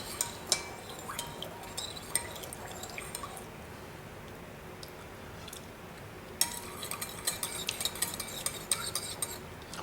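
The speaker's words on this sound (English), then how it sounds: "I'm going to add some white sugar into here" White sugar being stirred into a vinegar pickling mixture for mussels, with a spoon clinking and scraping against the bowl in close, irregular bursts and a quieter pause partway through.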